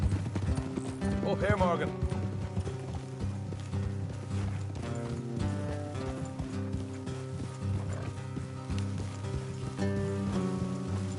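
Horse hooves clip-clop on a road in Red Dead Redemption 2: a steady, close rhythm of hoof strikes runs throughout under a game music score, with a brief spoken line of dialogue.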